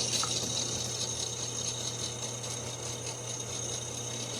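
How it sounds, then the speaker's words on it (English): A steady mechanical whir from a drill runs continuously for several seconds, with a constant low hum and grinding texture, fairly close. "we're just going to drill"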